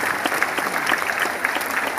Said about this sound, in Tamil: எல்லாரும் ஒரு கைத்தட்டல் கொடுத்து என்கரேஜ் பண்ணுங்க